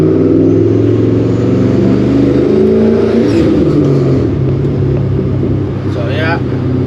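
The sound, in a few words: procharged Ford Mustang GT engine revving, warming up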